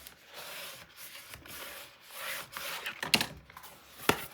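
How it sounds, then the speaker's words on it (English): Folded cardstock for a 9 x 9 mini album being burnished flat with steady rubbing strokes, close and fairly quiet, ending in a couple of sharper scraping passes. "Now we're going to lay it flat, and now I'm going to burnish."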